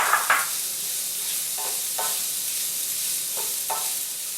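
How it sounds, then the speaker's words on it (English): Quinoa being stirred in a hot pan for a gluten-free vegan lemon quinoa dish: a constant close sizzle, with a few soft scraping strokes of the spoon at intervals. "at this point, you add the quinoa onto your pan"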